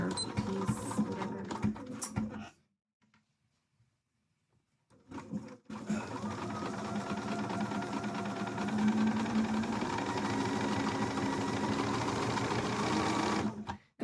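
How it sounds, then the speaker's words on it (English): Sewing machine running a straight stitch along a cosplay costume seam, a steady loud mechanical whirr in two bursts separated by a quiet pause, with no talking. "I'm just doing a straight stitch here because this seam doesn't really matter that much if it breaks"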